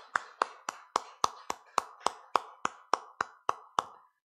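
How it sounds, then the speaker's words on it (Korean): Rhythmic clapping from a church congregation during a Sunday worship service, about thirteen crisp, evenly spaced claps in unison at a steady beat, then stopping. "하나님께 영광의 박수를 드리겠습니다"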